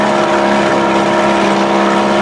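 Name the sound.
Evinrude outboard motor with bigger carburetor running on boat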